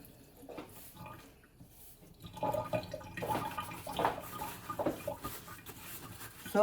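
Chicken pieces for inasal being washed under running tap water after a vinegar marinade, a steady splashing stream with drips and handling noises growing louder midway, no talk.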